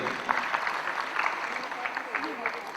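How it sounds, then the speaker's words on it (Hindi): An audience at a folk singing program claps in a steady burst of applause, with voices mixed in beneath the clapping. "पवन कुमार जीत से जोरदार तालियां होनी चाहिए।"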